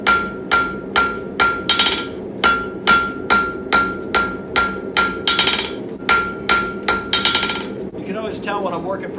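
A hammer strikes hot steel on an anvil while drawing out a taper for forged coat hooks, a steady run of about sixteen sharp ringing blows roughly every half second, close and loud, ending in lighter scraping.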